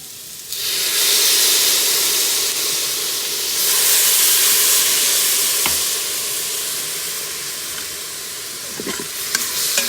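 Water poured into a hot Instant Pot with browning pork and onions bursts into a loud sizzle and hiss of steam, swelling twice then settling into steady frying crackle with a few stirring knocks near the end.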